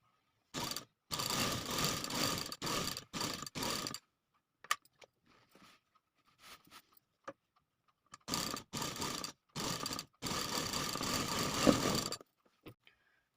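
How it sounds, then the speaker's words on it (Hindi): A sewing machine stitches along the edge of a buckram neckline in several loud whirring bursts separated by silent pauses and a few quiet handling clicks. "इस तरह से इसे पलटेंगे और किनारे पे सिलाई लगा देंगे"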